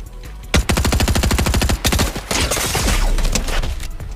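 Rapid automatic gunfire from an online shooter video game rattles off in dense, evenly spaced bursts, loud and close, with brief gaps between volleys and no talking.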